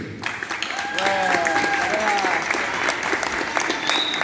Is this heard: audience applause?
yes